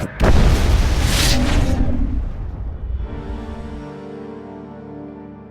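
A base blowing up in the sci-fi game Mass Effect, one massive booming explosion with a rumbling roar that fades into a lingering, ringing musical tail.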